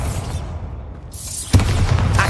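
Bombarda spell explosion in the video game Hogwarts Legacy: a quiet lull, then a sudden loud boom with a burst that lingers as a dense rumbling tail.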